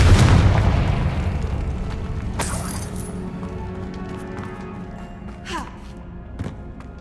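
A Confringo blasting spell explodes in the Hogwarts Legacy video game, a loud booming blast at the start that rumbles and decays, followed by fainter crackles and game effects.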